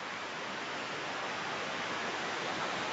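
Water tumbling down rocks at a rocky village waterfall on a river, a steady, dense broadband rush that holds constant and fairly close throughout with no voices.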